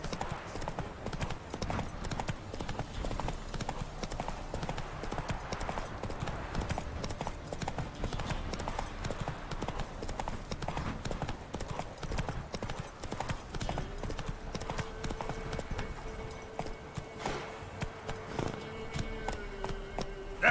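Roach, Geralt's horse in The Witcher 3: Wild Hunt, gallops with a fast, steady drumming of hoofbeats, close and continuous under game music and ambience.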